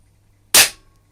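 A single sharp shot from an Air Arms S200 air rifle firing a JSB Hades pellet, one loud close crack with a quick decay and quiet before and after.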